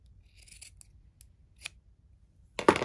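Scissors snip through fabric while trimming a half inch off a cuddle binding. Several quiet, brief cuts are spaced apart, ending with a louder, longer snip. No one speaks.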